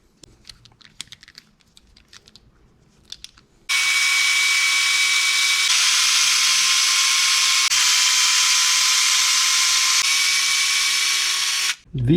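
A power tool whines steadily at high pitch for about eight seconds while removing screws from the portal gear cover of an Axial RC crawler, preceded by a few faint clicks and handling sounds, then cuts off abruptly.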